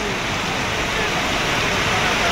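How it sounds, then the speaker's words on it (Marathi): Heavy rain pours at a train station, a dense, steady roar of broadband hiss that holds evenly throughout with no breaks. "तेवढ्यात आम्हाला भेटलेला आहे भरपूर सारा पाऊस"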